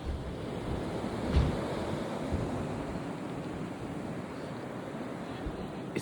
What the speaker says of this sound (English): It's called snow blizzard.